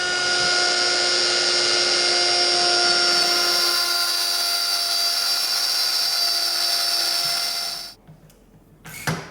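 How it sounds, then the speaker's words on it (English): Router cutting dovetails in wooden apron rails for a dining room table, a loud high-pitched steady whine for about eight seconds before it abruptly cuts off, followed by brief quiet clatter. "now I can make perfectly perpendicular dovetails in my apron rails with"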